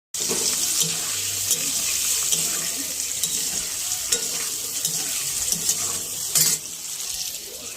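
Tap water runs in a steady, splashing stream while a baby is being bathed at home, close and continuous with small sloshes and a brief louder splash near the end.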